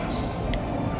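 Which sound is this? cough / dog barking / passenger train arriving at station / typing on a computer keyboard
passenger train arriving at station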